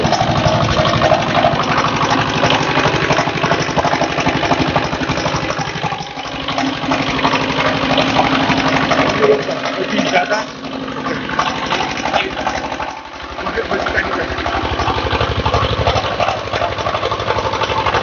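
Steady, loud drone of an engine-driven pump machine spraying insecticide on mango trees, running continuously close by with a slight dip midway and a faint hiss of spray mixed in.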